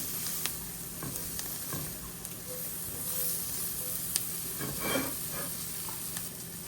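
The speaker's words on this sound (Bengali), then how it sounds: "কুচি করে রাখা রসুন এবং কিছুটা ক্র্যাশ পেপার। দিয়ে ভালো করে নাড়াচাড়া করে নিব।" Minced garlic, salt and crushed pepper sizzle faintly in a pan as a utensil stirs them, with soft scrapes and small crackles over a steady hiss.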